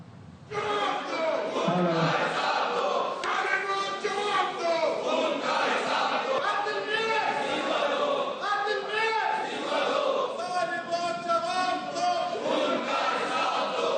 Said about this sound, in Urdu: جماعت اسلامی کے ارکان کا احتجاج، میئر کے خلاف نعرے لگائے